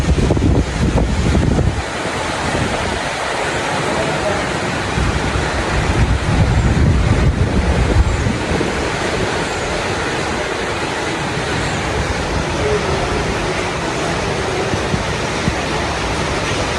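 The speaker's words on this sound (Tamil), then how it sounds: "நல்லா ஃப்ளோ ஆகிட்டு இருக்கு தண்ணி." Lake floodwater at Thaiyur near Chennai flows strongly after Cyclone Michaung rain, a loud, continuous rushing roar with heavy wind buffeting the microphone at times.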